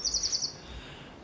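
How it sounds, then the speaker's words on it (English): Birds sing outside a canalside pub, a short bright chirping phrase early on, fairly faint against a low outdoor background hum. "Enjoy the birds."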